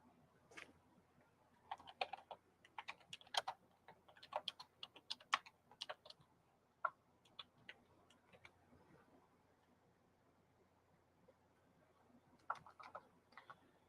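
Quiet, close keyboard typing in irregular bursts of clicks, pausing for several seconds before a final flurry of keystrokes.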